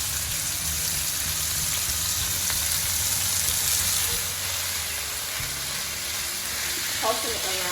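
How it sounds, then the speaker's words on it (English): Beef frying in a very hot skillet, a loud continuous sizzle and hiss that holds steady throughout, with a brief clink near the end. "for this frying you need the skillet to be very hot"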